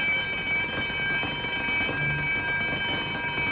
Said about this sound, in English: That alarm meant that someone had been captured.